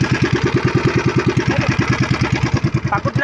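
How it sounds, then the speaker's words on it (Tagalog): A worn, tired small boat engine putters close by in a fast, even chugging rhythm, knocking and clattering steadily throughout with no voices. "Pati yung makina ko, pagod na oh."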